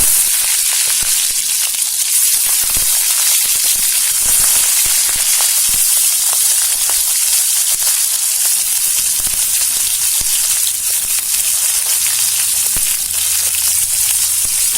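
Stuffed capsicum frying in hot oil tempered with cumin and mustard seeds, giving a steady, close, crackling sizzle that runs unbroken with no talk.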